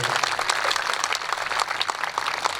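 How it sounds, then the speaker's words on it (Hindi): An audience at the first day of a Shiv Mahapuran religious discourse claps together in a thick, continuous burst of applause, loud and close throughout the short stretch. "एक बार उनके लिए सब लोग ताली बजाइए"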